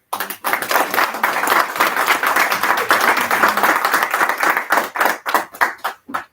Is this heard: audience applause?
yes